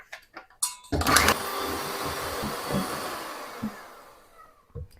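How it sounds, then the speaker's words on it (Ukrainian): An electric mixer starts up in a clean, dry bowl to whip four egg whites to foam, whirring steadily and close after a few knocks, then fading near the end. "До чистої сухої миски додаю 4 білка, і збиваю до піни."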